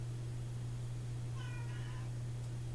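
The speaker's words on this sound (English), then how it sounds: "You want to come freak out Kelly's cats?" Cats indoors give a short, clear meow in the middle of the clip, over a steady low electrical hum, with no talking.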